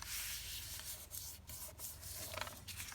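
Paper being folded down into a flap for a handmade matchbox book, giving a steady soft rubbing and creasing sound close by, with no talk.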